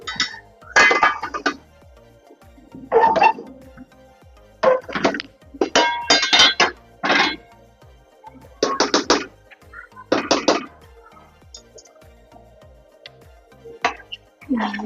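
Spoon clinking and scraping against a pot as beef is mixed into cooked rice for Bangladeshi beef tehari, several short bursts of metallic clinks with pauses, close and fairly loud.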